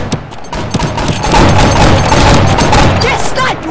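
Flintlock gunfire from the video game Flintlock Mayhem comes as a loud, dense burst of overlapping shots and booms lasting a few seconds.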